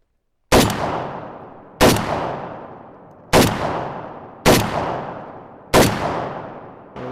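Five loud, close gunshots from an Arsenal SAM7K-44 AK rifle fired at nearby targets on a range, each a sharp crack with a ringing tail, spaced a second or so apart, with no talk.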